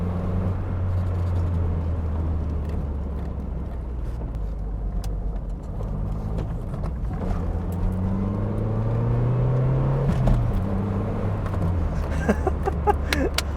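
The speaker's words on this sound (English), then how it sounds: "it could be that exhaust is quite raspy over the original, but it just sounds fantastic" A Toyota Paseo engine with an aftermarket exhaust drones and rises in pitch as it accelerates, with a raspy exhaust note and a few crackles near the end, loud and close.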